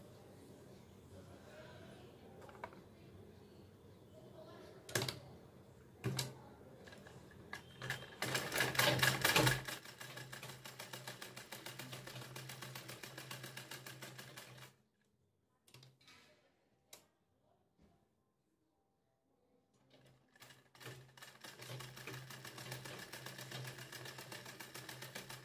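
Sewing machine stitching a neck design on a blouse, running in a steady rapid mechanical whir that pauses briefly midway and then restarts, with scattered clicks and handling noise close by.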